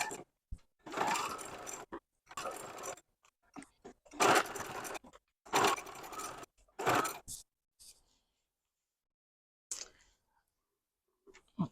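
Sewing machine stitching quilt pieces for a quilt-as-you-go project, running in several short close bursts of about a second each with brief pauses between, then a few faint taps near the end.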